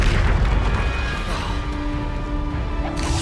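Bombarda explosion spell going off in Hogwarts Legacy, a heavy booming blast that rumbles and decays over a few seconds with crackling debris and faint tonal magic shimmer, no voices.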